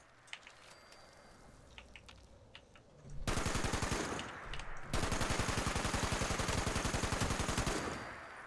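Automatic gunfire in Fallout 76: quiet scattered shots at first, then loud sustained rapid bursts with a brief break before a second long stream of fire.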